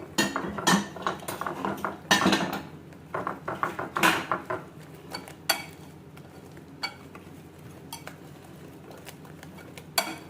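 A utensil stirs and scrapes a potato and egg mixture in a dish, with clinking, knocking strokes that are dense at first and then thin to occasional taps.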